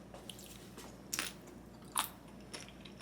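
Thin, crisp Carnivore Crisps liver chips crunch between teeth, a few sharp crackly bites spaced out over quiet chewing, close and fairly faint.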